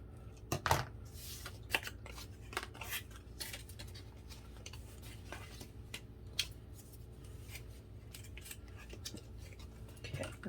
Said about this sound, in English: let's cut these corners. I'm gonna cut these up here.